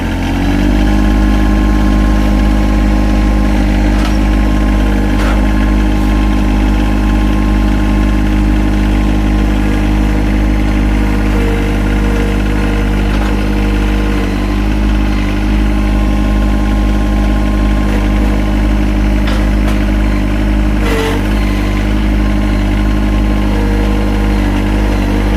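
A Yanmar SA324 tractor's diesel engine runs at 2,000 RPM while moving large logs, a loud, close, steady drone with a few brief clanks and shifts.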